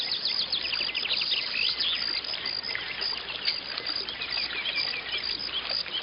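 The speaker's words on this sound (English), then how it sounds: "The birds," Dense, continuous birdsong with many overlapping chirps and trills, fairly loud and steady, over a soft background hiss.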